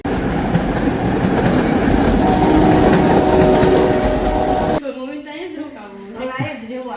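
A train passes close by near a resort, a loud continuous rumble and rattle of rolling wagons for about five seconds that cuts off abruptly, leaving quieter voices talking.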